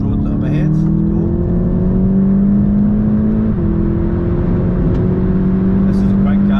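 A VW Mk7.5 Golf GTI TCR pulls hard from inside the cabin, a steady engine drone rising smoothly in pitch with a brief dip partway through like a gear change, with a voice talking over it.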